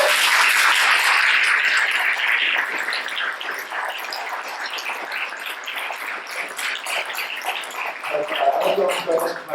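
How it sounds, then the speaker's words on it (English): Dense applause from a sizable audience, loudest at first then easing into a lighter, steady clapping with a few murmurs near the end. "let's first have a round of applause for all of our presenters."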